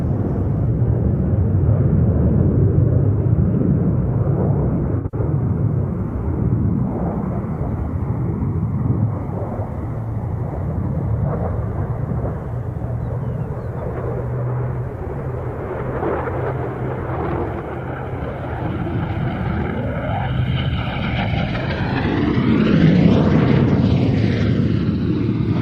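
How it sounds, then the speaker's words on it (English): An F-22 Raptor jet rolls during an air show, its engine a loud, continuous roar that swells and fades, with a rising whine near the end as it passes. "the Raptor doing the Dan roll"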